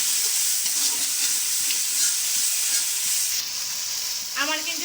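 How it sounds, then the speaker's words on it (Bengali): Prawns stir-fried in oil in a pan, a loud close sizzle with steady hiss and stirring scrapes, briefly interrupted near the end by a short vocal sound. "এখন কিন্তু চিংড়ি মাছগুলো একটু কষিয়ে নেব। খুব ভালো করে কিন্তু কষাতে হবে।"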